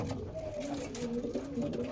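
A pair of pigeons gives low, wavering coos close by, several rolling calls overlapping across two seconds at a moderate, even level.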